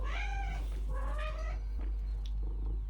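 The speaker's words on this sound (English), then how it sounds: "Sorry if my cat is meowing." A cat meows twice in close succession, loud and near, with a steady low hum underneath.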